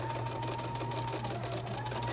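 A Bernina sewing machine stitching in a zipper, running at a fast, steady hum with rapid needle chatter, close and continuous without pause.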